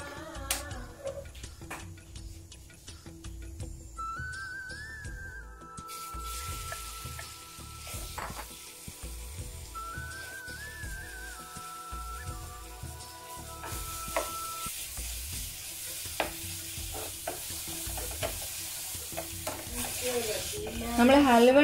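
Peeled, seeded dates sautéed in ghee for dates pradhaman, a steady low sizzle with repeated scraping stirs and small clinks of a spoon on the pan, close and continuous, with no one speaking.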